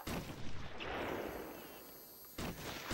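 Gunfire from a sniper in the Batman Arkham Asylum video game gives two loud, sharp shots about two seconds apart, separated by a rough, decaying roar.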